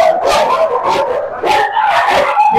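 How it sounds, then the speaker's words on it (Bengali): Several dogs at a breeding farm keeping German Spitz, Lhasa Apso, Rottweiler and German Shepherd puppies bark, yip and whimper continuously in overlapping loud, close bursts. "কুকুর"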